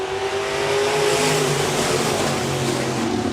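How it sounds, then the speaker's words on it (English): A field of six USRA Iron Man B-Modified dirt track race cars roars away at the start of a heat race at Park Jefferson Speedway, a loud, dense, continuous wall of engines accelerating together close by. "Heat race number 4 for the USRA Iron Man B-Mods. We're going green."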